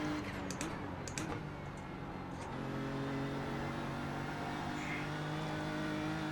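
A GT3 race car in iRacing on Mount Panorama brakes hard and drops two gears, its engine note stepping down into a steady droning hum, with some faint clicking from a keyboard or controls near the start.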